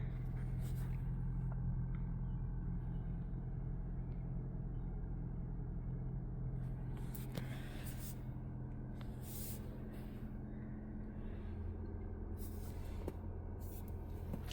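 A 2023 Audi A5 Prestige idles steadily with a low, even engine rumble held close throughout, broken by a few brief higher-pitched noises of air and movement.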